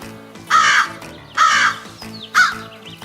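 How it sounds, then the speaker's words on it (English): Three loud, harsh caws from a crow come one after another at steady intervals, close and clear over a faint sustained background, with no talk. "Immediately, the crow began to cawing loudly."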